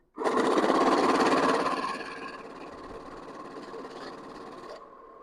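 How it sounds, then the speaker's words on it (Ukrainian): A NanoCash 932 banknote counter riffling through a mixed stack of notes: a loud, dense mechanical whir that starts abruptly, eases to a steadier rattle after a couple of seconds, then cuts off. "Лічильник порахував, показав вам загальну кількість та загальну суму прорахованих банкнот."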